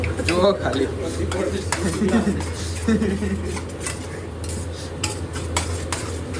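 Sabudana khichdi stirred in a pan, with clinking utensil scrapes and light, repeated stirring sounds under steady talking and a low background hum.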